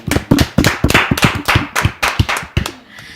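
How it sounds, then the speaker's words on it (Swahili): Audience clapping in close, rhythmic bursts, about a dozen sharp claps in quick succession, loud and near, with no talk over it, fading out at the end. "Makofi yao."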